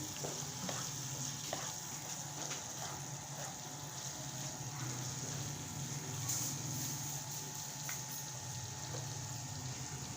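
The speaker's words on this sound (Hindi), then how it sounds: "कीमे को हम भून रहे हैं।" Minced meat for Bihari keema fries quietly in a pan with ground roasted chickpeas, giving a soft, continuous sizzle throughout.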